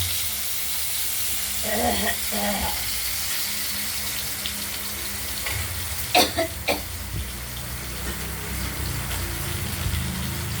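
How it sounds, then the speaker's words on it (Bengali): Potatoes frying in hot oil for a rohu fish curry, a soft continuous sizzle close by, with a few brief clattering knocks and a short cough partway through. "এরপর মাছে দেওয়ার আলুগুলো আমরা ভেজে নেব।"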